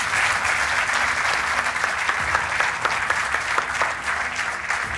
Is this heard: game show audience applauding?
yes